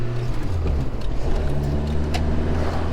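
A Renault Le Car being driven, heard from inside the cabin as a loud, steady engine drone and road rumble that holds for the whole stretch.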